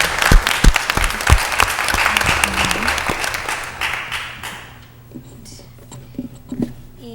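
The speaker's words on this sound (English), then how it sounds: "Just give a round of applause for being him a survivor" Applause at a city council meeting for a survivor, a dense burst of clapping that swells early, then thins out to scattered claps and a quiet room murmur with faint voices.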